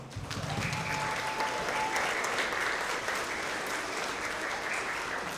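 Sustained audience applause at a kindergarten through second grade school award assembly, a steady wash of many hands clapping that continues evenly for several seconds.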